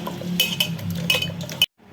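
Raw meat being mixed with salt for biryani in a metal bowl, a spoon clinking and scraping against the sides in quick strokes, close and clear, ending abruptly.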